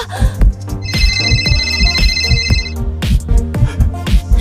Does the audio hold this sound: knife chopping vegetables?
no